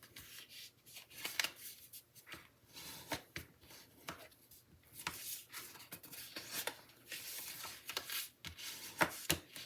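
Paper card pieces from a citrus-themed fun fold card kit are folded and creased by hand, giving close, soft crinkling, rubbing and scattered sharp taps at an uneven rhythm, with no talking.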